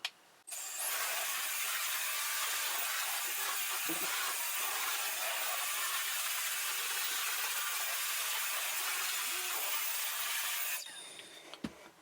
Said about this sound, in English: this is a pretty neat little blower, and this is what I got it for